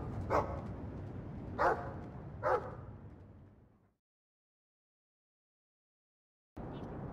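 A dog in Dragon Age 2 gives three short, close barks, then falls silent before ambient sound returns.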